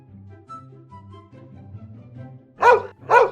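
A dog in the Minecraft video game gives two sharp, loud barks near the end, after a stretch of soft background music.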